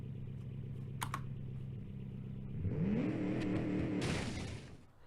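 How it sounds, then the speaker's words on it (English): Supercharged car engine with a four-speed gearbox in BeamNG.drive, idling steadily and then revving up with a rising, wavering whine that holds high before easing off, with a few keyboard clicks over it. "So this thing is right now revving up to 5 grand."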